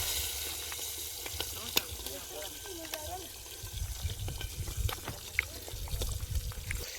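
Whole chillies frying in hot oil for tempering over an outdoor fire by the Gangrel dam: a continuous crackling sizzle with scattered pops and stirring scrapes, with faint voices in the background.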